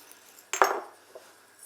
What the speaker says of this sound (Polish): garnek wstawiam na gaz